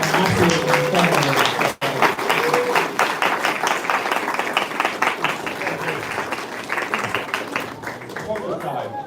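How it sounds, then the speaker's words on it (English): An audience at a shoe shining championship claps and cheers for the finalists, dense sustained applause with one sharp break, while a presenter speaks over it. "another round of applause for all of our finalists"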